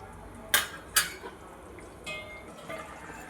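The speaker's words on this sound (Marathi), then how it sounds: "भाजी आपण छानपैकी शिजू देऊ त्याच्यावर आता झाकण ठेवू" A lid set down on a pot of mixed vegetables cooking, two sharp metallic clinks in quick succession followed by softer rattles and a faint settling clatter, close in a quiet kitchen.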